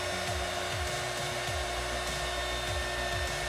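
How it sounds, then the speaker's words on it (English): A heat gun blows hot air over custom wine glasses, a constant loud whooshing drone with a steady tonal hum, close and unbroken throughout. "So really, this heat gun ain't no joke"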